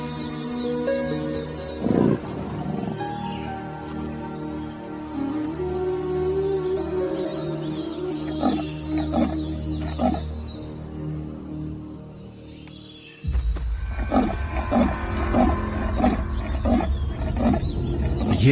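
A wild black panther lets out repeated deep, rasping roars and growls, loud and close, with jungle ambience behind them that swells into a denser, noisier stretch near the end.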